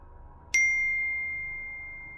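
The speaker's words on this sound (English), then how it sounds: "Then my phone pinged." A single bright notification ping rings out from a phone at about half a second, a clean tone that lingers and slowly fades over a quiet background hum.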